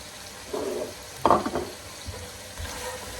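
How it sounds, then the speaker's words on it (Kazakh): Carrots added to meat and onions frying in a pan give a soft sizzle with a brief stirring scrape midway, then a few quieter clicks of a spoon against the pan. "Міне осы әдемі қуырылып жатқан етімізбен жуамыздың үстіне біз сәбізімізді саламыз."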